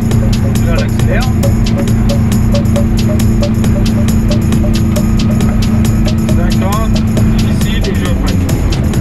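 A small Aixam Crossover microcar idles with a steady, close motor hum and a ticking rhythm running throughout, while someone talks over it in French.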